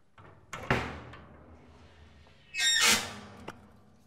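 Metallic clanks and knocks come first, then a short, sharp hiss from a can of Pam cooking oil spray coating a vertical offset smoker's firebox, followed by another light tap.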